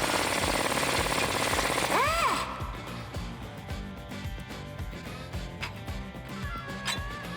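Removing the lower shock absorber bolt on a Jeep Wrangler JK: a dense, loud burst of rapid mechanical hammering like an impact wrench runs for a couple of seconds, then drops to quieter rattling and clicking workshop noise.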